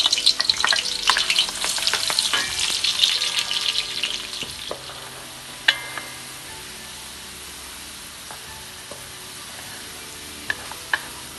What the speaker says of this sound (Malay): Seterusnya kita goreng bawang kecil pula